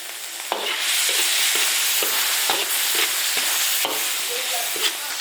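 Chopped chili hits a hot iron wok of mapo tofu with a loud, steady sizzle, broken by repeated scraping strokes of a spatula stirring the pan, close up with no talking.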